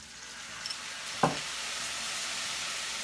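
Ginger, lemongrass, minced garlic and turmeric fry quietly in a pan with a steady low sizzle, broken once by a single sharp clink of a utensil against the pan.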